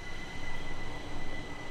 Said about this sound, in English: as a train is going past